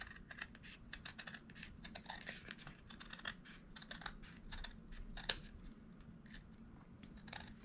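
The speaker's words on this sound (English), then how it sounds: "So I am just trimming away." Scissors snip a Dollar Tree placemat to trim it to fit a base. Quick, close, crisp cuts repeat in an irregular series, with faint plastic rustling between them and no voices.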